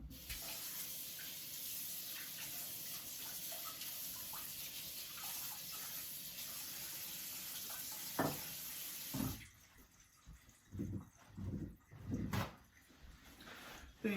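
Steady close tap water runs over a Wusthof Ikon Classic paring knife being rinsed during sharpening for about nine seconds, then cuts off, followed by a few quiet clunks and handling sounds.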